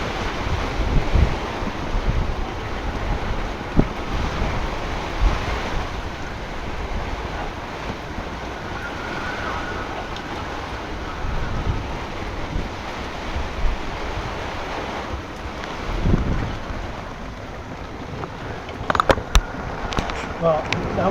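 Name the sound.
strong storm wind during tornado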